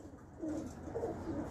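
A Sialkoti pigeon, a domestic breed with a black eye ring, gives a few soft, low coos up close, in three short rising swells over a quiet room background.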